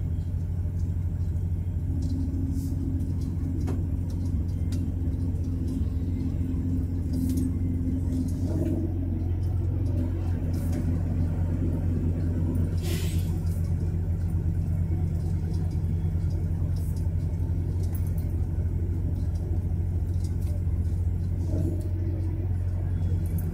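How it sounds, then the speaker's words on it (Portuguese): A nine-axle truck overtakes at a tunnel entrance on the Anchieta highway down the Serra de Cubatão, heard as a heavy, continuous low road rumble from inside a moving vehicle, with faint talk now and then. "Olha o cara com o nove eixo ultrapassando na entrada do túnel"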